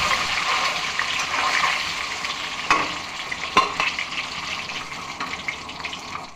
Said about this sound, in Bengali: কড়াইতে নুন দিয়ে ডিম দিয়ে গোলমরিচ দিয়ে ভেজে তুলে নেব।